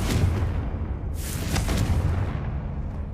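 The Confringo spell from Hogwarts Legacy firing off as a fiery, booming burst, a sustained roar with a sharp flare around the middle, heard alone with no talk.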